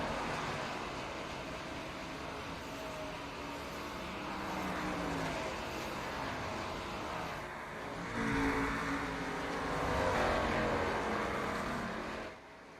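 Race cars in iRacing at an Iowa Grand National Series race during pit stops, a steady dense engine roar with passing cars swelling and fading, loud and continuous, no talk.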